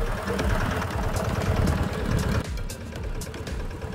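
Yanmar SS80 diesel engine running steadily after starting, a dense low chugging drone with knocking texture that drops slightly in level partway through and keeps going, with no talk.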